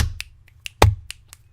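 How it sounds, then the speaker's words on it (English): About seven crisp finger snaps ring out one at a time, spaced irregularly and close up, with one much louder, sharper snap in the middle. "I feel like I've mastered snapping and clapping"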